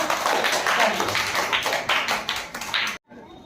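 A group of children at a village government school in Malokhda claps for their teacher; the quick, close, rhythmic clapping runs for about three seconds and then stops abruptly into near silence.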